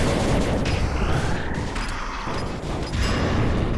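Explosions in a video game, a dense continuous roar of blasts and rumbling booms, loud and close, with no clear gaps between the bursts.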